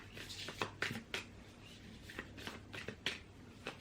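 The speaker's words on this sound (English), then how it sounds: "It's like the matte cards are very hard to shuffle." Matte tarot cards are shuffled by hand close up, giving quiet, irregular riffling and slapping bursts with soft pauses between them, with no talking over them.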